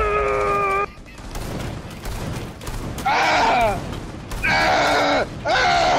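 Sharp, rapid gunshot volleys ring out in the tactical shooter Rainbow Six Siege, arriving as dense loud clusters mixed with harsh in-game sounds and a voice in between.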